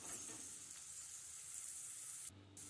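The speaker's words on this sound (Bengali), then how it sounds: "এরপর এর মধ্যে অ্যাড করে দিচ্ছি ম্যারিনেট করা চিকেন কিমা।" Marinated chicken mince sizzles in a pan with onion and green chilli, a steady, even frying hiss close by that dips briefly near the end.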